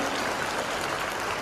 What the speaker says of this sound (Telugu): మనం అందరం ఒకసారి గట్టిగా క్లాప్స్ కొడదాం.